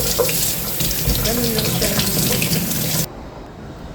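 Aloe vera leaves rinsed under a running kitchen tap, a loud steady gush of water splashing for about three seconds before cutting off abruptly, with a brief spoken remark over it.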